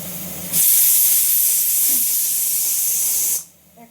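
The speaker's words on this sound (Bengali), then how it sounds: "এবার আমার কুকারে সিটি পড়া শুরু হবে" A pressure cooker whistle blasts steam in one loud, steady hiss that lasts about three seconds and then cuts off abruptly, leaving the room quiet.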